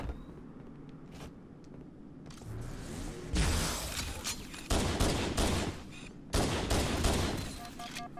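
Gunfire in Halo: Combat Evolved Anniversary comes in several sharp bursts of rapid shots, loud and close, with quieter game ambience between the volleys.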